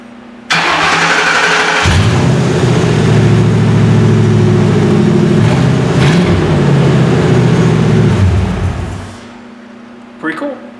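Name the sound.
Ford F100 engine running on original truck ignition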